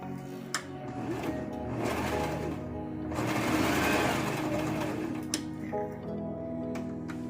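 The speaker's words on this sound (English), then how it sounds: "I'm gonna reverse stitch." A sewing machine runs steadily, reverse stitching through fabric for a fabric box, its motor whirring and needle ticking close up for about seven seconds with no talking.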